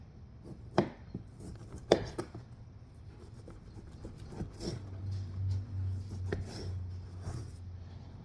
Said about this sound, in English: So I will cut this off and I will throw it away.